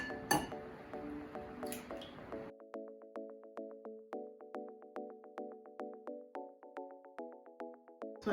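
A whisk beats eggs, milk and grapeseed oil in a bowl. Rapid, evenly spaced strokes ring against the bowl's side, close and fairly soft.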